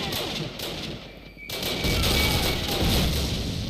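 A grenade goes off in a Call of Duty match amid rattling gunfire, a loud, rough blast that swells into a sustained, crackling roar after a brief lull, close and heavy, with no voices.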